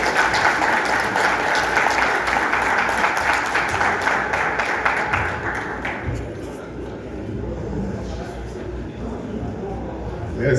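Audience applause and clapping for a general director at a 40th anniversary event of an electricity workers' union in Haiti, sustained broadband noise from a crowd that eases off after about six seconds, with speech underneath.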